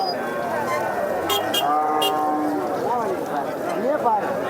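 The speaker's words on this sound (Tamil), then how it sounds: "இந்த பக்கம் ரோடு ஓரம் இருக்கிறதெல்லாம் ஃபுல்லாக ஜெர்சி மாடுங்கள்லாம்" Jersey cattle standing along the roadside at a cattle market moo in several drawn-out calls, one after another, over a busy background with a few sharp clicks and a voice talking.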